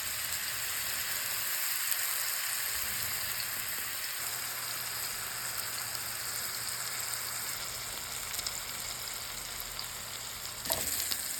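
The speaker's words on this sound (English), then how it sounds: "we're just gonna let them sizzle" Continuous sizzling of meatloaf on a stick cooking over the fire on a hot grill, a steady crackling hiss throughout with a faint clunk near the end.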